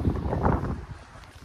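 Strong outdoor wind on a street in Glasgow, Scotland, roars loudly into the microphone, heaviest in the first half and then easing into a lower, steady rumble, with nobody talking.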